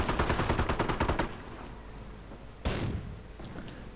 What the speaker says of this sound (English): M8 number 2 blasting away, firing away with 50 caliber and 37mm